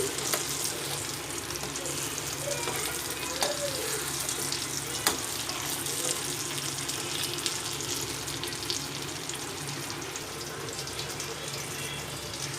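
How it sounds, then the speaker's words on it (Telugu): Fish fries in a pan on both sides, making a steady, moderately quiet sizzle with a soft hiss and faint occasional pops that continue evenly throughout, with no talk over it. "వేగిపోయినాయి రెండు పక్కల కూడా చాలా బాగా వేగింది"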